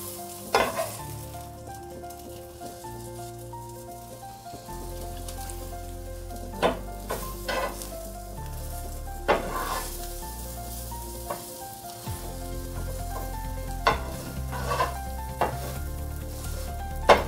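Pumpkin flower omelet frying covered in a pan on low-medium heat, a soft steady sizzle with occasional sharp pops and crackles, fairly quiet and with no talk.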